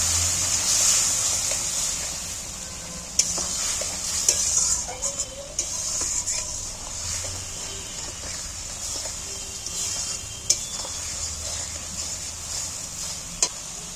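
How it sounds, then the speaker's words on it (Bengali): Spice paste for a Bengali hilsa fish curry sizzles and frys steadily in a pan while being stirred, with occasional sharp scrapes and clicks of the spatula against the pan over a constant hiss. "এইবার মশলাটাকে আমি একটু নেড়ে চেড়ে কষিয়ে নিই।"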